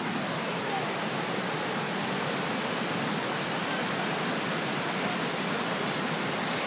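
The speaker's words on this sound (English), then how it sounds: "this water is actually moving really fast too" Fast-moving flood water rushing, a dense, constant broadband roar like a waterfall that stays loud and unbroken throughout, with no voices.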